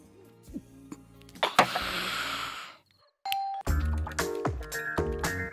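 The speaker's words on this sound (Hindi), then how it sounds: "चेक कर रहा था कि आपके दरवाजे की घंटी बजती है या नहीं।" A house doorbell rings at night, a loud electronic chime sounding in several bright bursts with a brief silent gap before more ringing.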